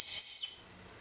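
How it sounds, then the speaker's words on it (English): A thin, high recorder whistle as air is blown through the instrument to clear it, loud and close, lasting about half a second before fading into silence. "It'll make that little whistle too."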